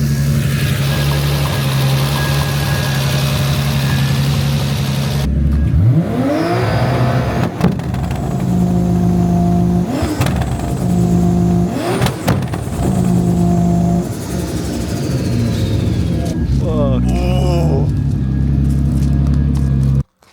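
A Nissan R34 GTT drift car revs loudly and repeatedly, its engine climbing and dropping in sharp bursts over a steady idle, close and dominant with no talk.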